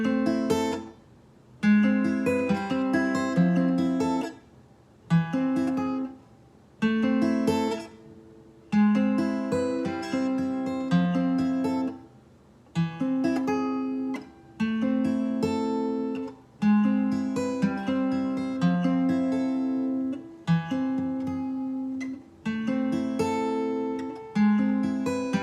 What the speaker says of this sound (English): If you can finger pick really well, just play those same chord shapes and it'll sound like this.